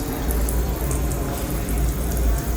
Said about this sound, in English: Soap, water, and then a blow dryer.